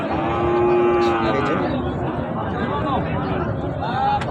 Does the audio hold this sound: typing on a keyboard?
no